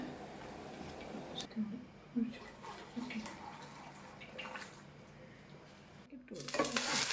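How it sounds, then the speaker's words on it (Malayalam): Cooked ada being sautéed in ghee in a pan: a soft sizzle with scraping stirs and light clinks, under intermittent talk, swelling louder near the end. "നെയ്യ് ഒഴിച്ചിട്ട് അട ഇനിയിപ്പോൾ ഒന്ന് വാട്ടിയെടുക്കണം. ആ ഒരു നെയ്യിലൊന്ന് വഴറ്റിയെടുക്കണം കേട്ടോ."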